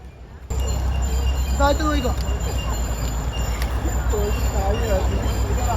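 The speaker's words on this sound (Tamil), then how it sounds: "ட்ரெயின் வருதுன்னு நினைக்கிறேன்" A train rumbles past close by at Matheran near Mumbai in a steady, loud roar, with a few high metallic squeals rising over the noise.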